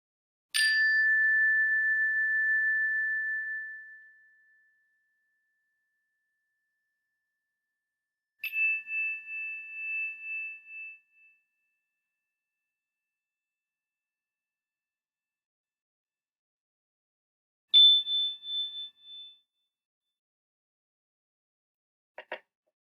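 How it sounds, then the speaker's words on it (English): Chime rung to begin worship in a church sanctuary: three separate clear metallic strikes, the first long and ringing as it fades, the next two shorter with wavering decay, in otherwise silent surroundings. "Why don't we all breathe as we hear the chime and we enter into worship."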